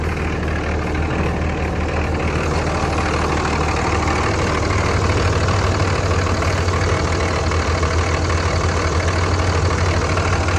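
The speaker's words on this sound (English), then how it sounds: "That's just the engine shaking." Third-generation Dodge Cummins diesel pickup idling warm, a steady low rumble with a fine rapid clatter, close and constant with no voices.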